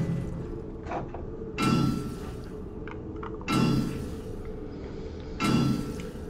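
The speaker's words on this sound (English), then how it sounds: "we'll get through this in no time with the hammer" Three heavy dull thuds from a hammer smacking a metal safe in 7 Days to Die, Alpha 17, evenly spaced about two seconds apart, each with a short ringing tail over a low steady background hum.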